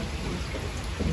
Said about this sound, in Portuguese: Muita água, minha gente. Muita chuva,